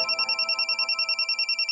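A telephone rings in a steady, rapid electronic trill with bright pulsing tones repeating evenly, close and clear with no talking.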